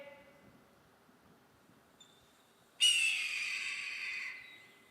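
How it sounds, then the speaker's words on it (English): A piercing, eerie red-tailed hawk screech bursts in loud after a quiet stretch, holding as a harsh drawn-out cry for over a second before cutting off. "the screeching, eerie sound of the red-tailed hawk"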